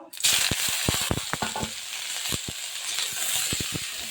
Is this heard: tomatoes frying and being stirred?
yes